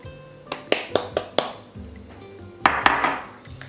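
Metal whisk clinking and scraping against a saucepan while stirring cocoa powder into melted chocolate and butter for flourless brownies, with a run of sharp close clinks, a pause of softer stirring, then a few more clinks.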